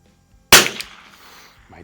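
A single sharp report from an Anschutz 1827 Biathlon rifle fired with iron sights at a 50-yard outdoor range, loud and close, followed by a brief ringing decay.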